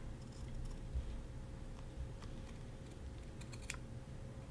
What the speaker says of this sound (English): you're just going to take a pair of pinking shears and pink that curved edge